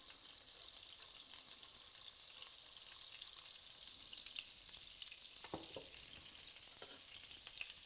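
Butter and olive oil sizzle in a frying pan with a steady, faint hiss and a few light pops near the end.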